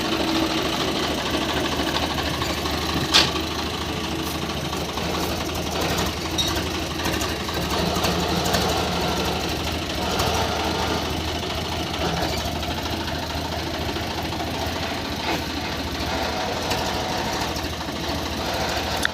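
Swaraj 855 FE tractor pulling a seven-bottom plough in a field, its engine running continuously with a steady knocking, rattling drone and mechanical vibration throughout, fairly close and without pause.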